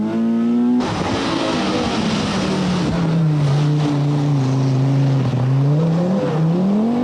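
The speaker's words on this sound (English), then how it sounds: "Lassie Lampi in a private Quattro does some 4-wheel drive ploughing at Bramham, but makes it safely at Clumber." A private Audi Quattro rally car on a 1982 RAC Rally stage roars past at close range with a loud, droning engine whose pitch rises and dips as it accelerates and shifts, steady for several seconds.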